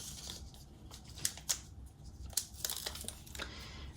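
Paper being trimmed along the edge of a journal page, with a few sharp snipping cuts and soft crinkles close by, quiet and sparse against a faint background.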